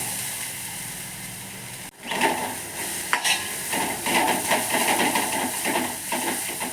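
Half a bowl of grated coconut fries in a pan with onion, curry leaves and a pinch of cumin, giving a loud, steady sizzling hiss broken by a brief scraping stir partway through.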